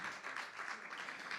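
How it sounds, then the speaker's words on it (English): An audience at a live show at The Bedford applauds in a steady, dense wash of clapping that holds evenly throughout. "I'm only cutting off your applause"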